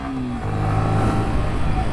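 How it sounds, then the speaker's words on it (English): Yamaha R15 V3 BS6 supersport motorcycle pulling away on a highway, its engine note climbing steadily under a constant rush of wind, loud and close. "So let's take this on highway."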